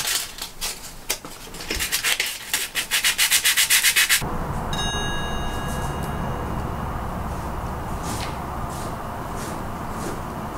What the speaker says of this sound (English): I'll put it on the orbital and do like the main, you know, stuff you can get to